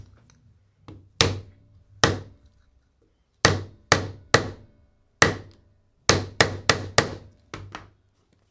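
Hammer blows striking wood while de-rattling a vehicle and fitting toe protectors, a dozen sharp knocks in irregular bursts, some single and some in quick runs of three or four, close and loud.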